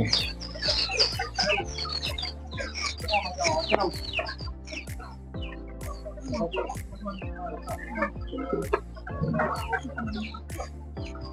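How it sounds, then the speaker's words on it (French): Hybrid chickens and chicks at a local poultry farm, repeated close clucking and cheeping calls in bursts while the chicks are picked up and handled, with people talking in the background. "il a commencé à prendre les poussins"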